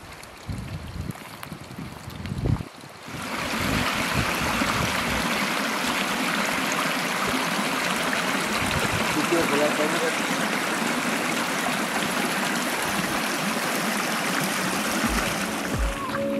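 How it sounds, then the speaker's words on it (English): Strong fountain water gushing and splashing continuously on a hiking trail near Cercedilla, Madrid, loud and close, starting abruptly after a few seconds of quieter outdoor sound. "Strong fountain, everywhere wet."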